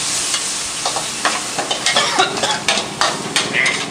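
Glass noodles are tossed in a hot, oiled pan, with loud, rapid scraping and clattering strokes over a constant sizzle and no speech.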